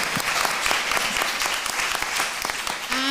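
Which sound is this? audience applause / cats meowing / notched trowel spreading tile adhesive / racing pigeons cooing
audience applause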